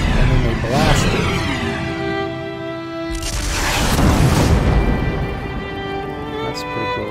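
Anti-air batteries in Xenoblade Chronicles blast debris falling from the sky, a pair of loud, broad booming bursts rising over sustained tonal game music and ambient rumble.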